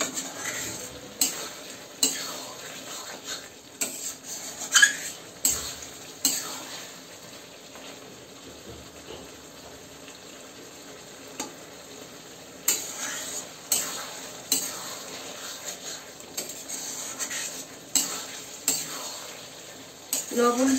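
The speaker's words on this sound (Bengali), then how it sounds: "মশলা কষা হয়ে গেলে তার একটা আলাদাই খুব সুন্দর গন্ধ বেরোয়।" Spice paste for mutton curry sizzles in a pan while a spatula scrapes and knocks against the metal in a loose repeating rhythm, close and clear over a steady frying hiss.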